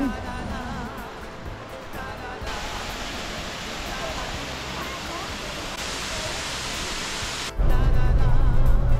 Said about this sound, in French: on arrive au site des 3 cascades